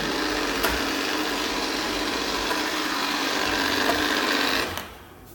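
An iLife A4 robot vacuum runs with a steady, loud whirring rattle that continues unbroken for several seconds before cutting off sharply near the end.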